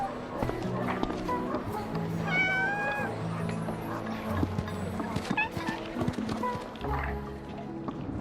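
Within a busy Honor of Kings video game cinematic, a cat gives a short meow over music and effects, with voices talking through the mix.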